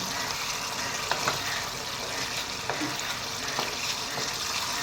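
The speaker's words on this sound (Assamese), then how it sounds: "এফালৰ পৰা এয়া লৰাই দি দিলোঁ" Chicken curry gravy being stirred in a pan, a steady sizzling hiss with scattered scraping clicks of the spoon, close and continuous with no talk.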